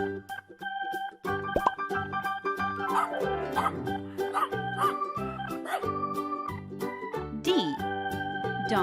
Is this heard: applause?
no